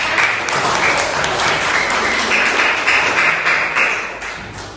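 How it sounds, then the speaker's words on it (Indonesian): An audience at an Indonesian talk session on beginner investing gives a steady round of applause, close and full, with a few sharper individual claps standing out over the continuous clapping. "Tepuk tangan untuk pertanyaan yang sudah"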